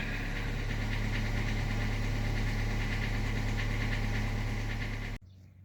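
A T-150 tractor engine idles while warming up, giving a loud, steady, rough diesel rumble with constant knocking vibration that cuts off abruptly near the end, with no talking.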